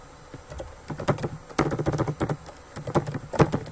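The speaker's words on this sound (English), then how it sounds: "Let me type in this first and then I'll explain it" Typing on a computer keyboard, close and clear, comes in quick irregular bursts of clacking keystrokes separated by short pauses, with no voices.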